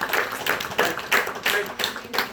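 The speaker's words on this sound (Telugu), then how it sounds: "క్లాప్స్ కొట్టండి" Schoolchildren clapping together in a classroom during a game, a quick steady rhythm of sharp claps, close and fairly loud, with no talk over it.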